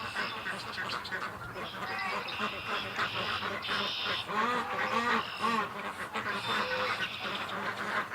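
Ducks quack softly in short, scattered bursts at a distance under steady outdoor background noise.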